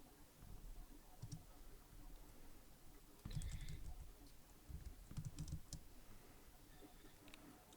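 Someone types on a computer keyboard at close range, producing quiet, uneven clusters of key clicks with short pauses between bursts and a few firmer presses midway.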